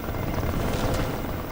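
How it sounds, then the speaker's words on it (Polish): A police helicopter from the racing game Need for Speed Rivals flies nearby, a loud, steady rotor roar that stays constant throughout with no talk. "Kurde, ten pilot śmigłowca jest naprawdę dobry."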